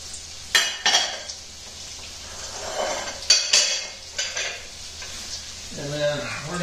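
Leeks and anise being stirred and softened in a pot for a French fish stew, with clinks of a utensil against the pot, soft scraping and a low sizzle throughout, with no talking.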